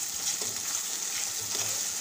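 Onions frying in oil toward browning for a biryani-style rice dish, a steady close sizzle with occasional stirring scrapes throughout, no voices.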